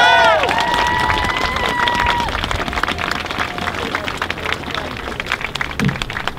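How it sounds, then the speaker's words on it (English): A crowd at an outdoor vigil in Union Square, New York, bursts into sustained applause and cheering. Clapping and shouts build loudly and continue throughout, and voices call out over the noise. "give him another round of applause"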